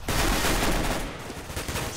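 Auto shotgun fire in Counter-Strike on de_nuke, a loud rapid burst of shots in a dense barrage that eases into scattered, quieter reports.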